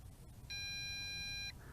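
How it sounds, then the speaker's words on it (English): A JJRC X8 GPS quadcopter remote control gives a single sustained electronic beep, high and pure, lasting about a second against quiet background hiss, during return to home. "remote control is sending out longer beeps"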